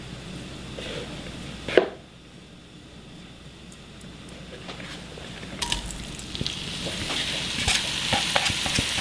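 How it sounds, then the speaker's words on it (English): Beef sizzles in a hot pan with a steady crackle, a clunk of a utensil early on, and the frying grows louder toward the end. "Got a good, nice sizzle."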